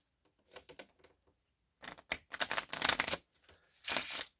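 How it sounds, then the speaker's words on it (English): A deck of playing cards is riffle shuffled close by, quiet bursts of fluttering, rapid clicks in several short runs separated by brief pauses. No talking is heard. "Nice little riffle shuffle."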